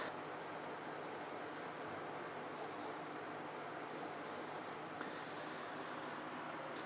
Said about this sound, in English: So we are applying with a clean cloth.